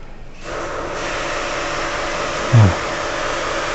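A portable dual-pump pressure washer starts up and sprays dirt off a floor, giving a steady, close hiss with a brief low thump partway through.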